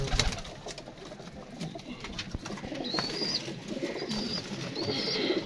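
Pigeons coo softly near the listener in a loose, repeating pattern over steady outdoor background noise, with a few short high chirps and no clear wingbeats.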